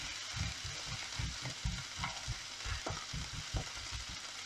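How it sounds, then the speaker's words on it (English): Tiny guvar beans tipped into a hot pan, with a continuous soft sizzle and a rhythmic series of stirring scrapes and tosses at close range. "So I'm just going to add it to the pan."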